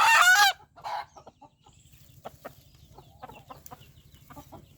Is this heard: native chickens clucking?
yes